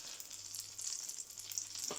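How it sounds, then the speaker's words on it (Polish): Bream frying in a pan, a soft continuous sizzle and crackle of hot oil with a faint low hum, quiet and steady with no voices. "i się smaży rybka"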